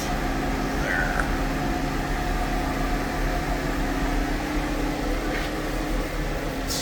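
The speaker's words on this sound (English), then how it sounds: "Coolant pump still works." Coolant pump running on a Haas SL-40 horizontal CNC chucking lathe, a steady, low, even mechanical hum with a faint whir, no clear talk.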